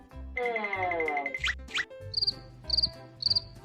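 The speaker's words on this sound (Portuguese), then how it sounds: "Esse aqui é o grilo." A cricket chirps in three short, high, rapidly trilled bursts at the end, preceded by a series of other bright electronic tones and sweeps.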